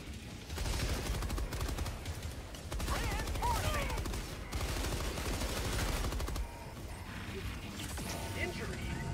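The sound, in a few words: fireball cannons firing in a video game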